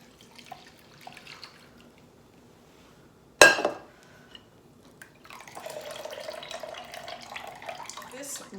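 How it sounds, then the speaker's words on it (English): Whey poured through a strainer to catch cottage cheese curds, made from milk and vinegar, with a sharp clatter near the middle followed by a steady splashing, trickling pour in the later seconds. "I can just pour this through and capture the rest of the curds"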